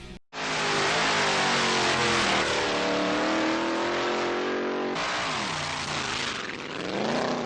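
A custom-built top-category drag racing car engine roars loudly and continuously for several seconds, a dense, harsh blast that shifts in pitch partway through, close and alone with no talk.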